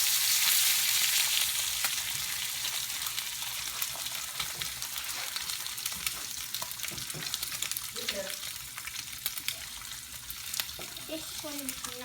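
Bacon frying in a preheated pan gives a continuous crackling sizzle with sharp pops scattered throughout, steady and fairly close, with a few faint background noises near the end.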